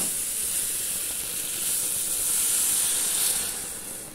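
Water poured into hot seasoned meat in a cooking pan sets off a loud, steady steam hiss and sizzle, rising in the middle and easing toward the end, with no talk over it.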